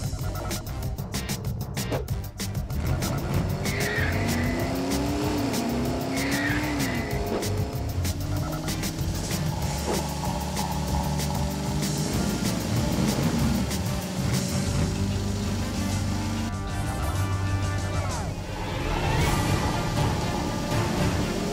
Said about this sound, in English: Let's see what these cars can do with a little moon power.